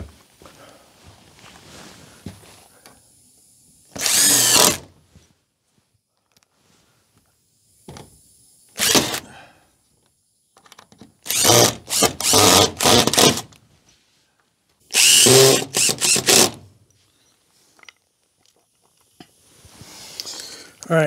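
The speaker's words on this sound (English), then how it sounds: "Now we can put some bigger screws in to hold that in." Bigger screws going in to secure the door of a homemade rabbit hutch, heard as four loud bursts of power driver whirring with short pauses between them, alone without talk.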